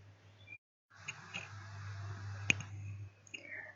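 A computer mouse clicks once, a sharp tick close by against a quiet room hum, with a few fainter clicks around it.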